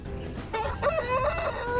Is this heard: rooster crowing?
yes